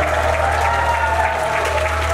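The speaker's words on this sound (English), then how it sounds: "round of applause for the judges." Steady audience applause for the judges at a combat robot event, a dense wash of clapping that holds at an even level throughout without pause.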